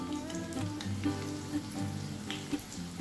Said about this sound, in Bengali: এবার এই বাটাটা দিয়ে দিচ্ছি